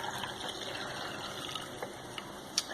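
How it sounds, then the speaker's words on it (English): Water poured into a cup of frothy matcha green tea powder, a soft continuous trickle with a few small splashes near the end, close and fairly quiet, with no talking. "I am gonna pour the rest of my water in here"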